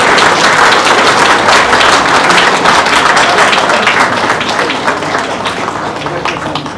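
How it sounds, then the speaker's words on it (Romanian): Sustained loud applause from an audience at a business event marking the signing of a strategic protocol, dense clapping that fades slightly toward the end. "Aplauze!"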